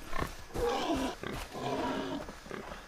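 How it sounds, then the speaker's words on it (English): A wild boar in the video game Far Cry 3 grunts and snorts loudly and close up, in several rough, throaty calls that run one into the next, with no talk over them. "Get away, boar."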